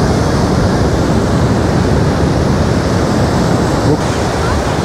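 Spring sea surf rolls onto a beach at Anapa, a loud, continuous wash of waves mixed with wind buffeting the microphone, with no break in the roar.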